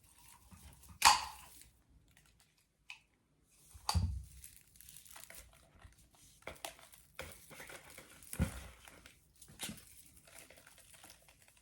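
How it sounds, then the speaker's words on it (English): Pine needles being stripped from cut Christmas tree branches and dropped into a bucket, heard as a few scattered crinkling, rustling bursts with quiet gaps between them, fairly close and moderate in level. "I'm going to cut off branches and then strip the needles into"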